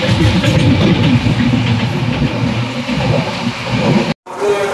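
The Gurumukhi Express on the Kolkata–Ambala run rumbles along from an open carriage door, a loud, steady roar of wheels and wind with rhythmic rail clatter, cut by a brief dropout near the end.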